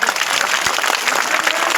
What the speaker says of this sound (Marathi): अन्नत्याग केलेल्या भगिनींसाठी कडकडून टाळ्या वाजवल्या